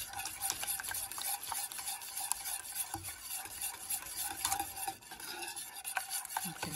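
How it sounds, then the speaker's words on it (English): A spoon stirs creamy spinach-cheese soup in a pot with melting grated cheddar, giving a steady soft scraping and sloshing with a faint sizzle throughout, quiet and close. "continue to stir it around until the cheese gets melted"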